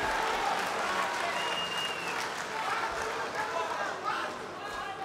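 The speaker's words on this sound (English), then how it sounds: "Crowd really going berserk here for Poclit" Loud crowd cheering and roaring at an Eagles FC 10 MMA bout between Luca Poclit and Ilkin Gasimov, a steady dense wall of noise with a commentator talking over it throughout.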